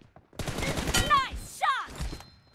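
Rapid bursts of gunfire from a video game shootout crackle in quick succession, loud and close, with voices talking over the shots.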